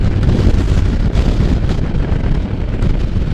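Heavy wind roars and buffets steadily across the microphone while riding a Can-Am Spyder F3 three-wheeled motorcycle, a dense rumbling rush with no voices.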